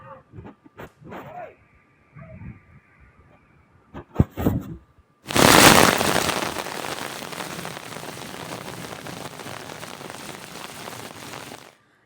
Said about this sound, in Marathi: एकीकडे आपण पाहतोय की पाऊस किती जोरदार बरसत होता